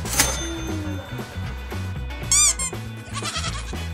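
Goats at a goat petting spot bleat loudly and close by, several overlapping quavering cries over a dense background of rustling and bustle.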